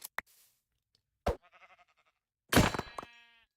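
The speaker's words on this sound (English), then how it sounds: "I mean, not before I kill this sheep" Minecraft sheep bleating in a hardcore survival game, two separate bleats with wavering tremolo, the second louder and longer, mixed with short sharp hit thuds and clicks in between.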